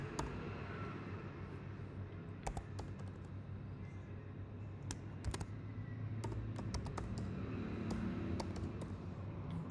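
Keys clicking steadily on a computer keyboard as a client's email address is typed into a project form, a continuous patter of close, light taps with a few sharper strokes over a low background hum.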